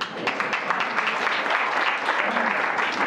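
Audience clapping at a music and devotional festival in Narsobawadi, a dense steady patter of many hands filling the hall at moderate loudness, with no voice over it.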